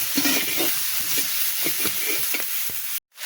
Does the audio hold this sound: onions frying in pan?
yes